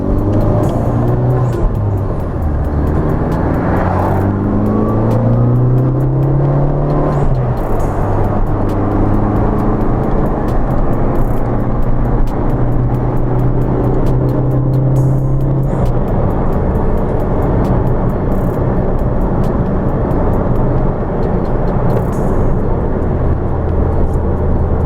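A 1987 Seat Ibiza 1.5 with the System Porsche engine revs through long pulls, its pitch sweeping up and dropping repeatedly between gear changes, loud and close with no talk.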